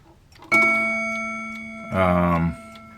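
A handmade walnut clock with a run-down gong mechanism strikes a single ringing chime tone that decays slowly, then a voice speaks briefly over the fading tone.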